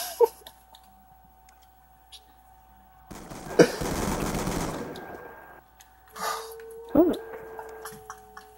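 Rapid-fire shotgun blasts in Black Ops 2 gameplay: a few sharp, loud reports spaced apart, with a long dense burst of noise in the middle and a steady background hum, alongside people talking.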